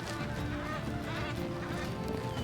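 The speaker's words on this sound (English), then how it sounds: "Geese." Geese honk repeatedly outdoors, their calls mingling into a dense, steady chorus at moderate distance under broad background noise.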